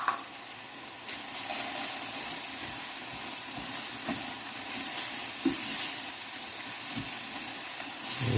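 Steak stir fry with soy sauce and peanuts sizzles in a hot pan, a steady close hiss of frying that carries on throughout, with occasional soft stirring knocks and no talking.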